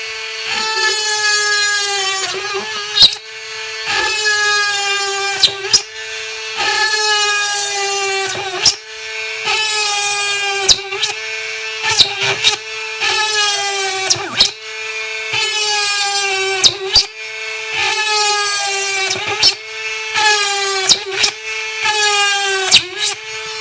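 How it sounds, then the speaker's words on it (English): A small 12V cordless rotary tool whines steadily at high pitch while drilling into wood, in repeated bursts of several seconds separated by brief pauses and clicks. "Let's drill through it, see what it can do."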